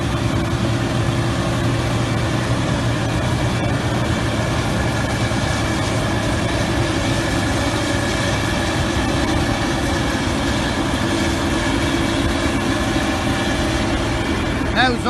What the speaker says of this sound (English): till the combine goes by there now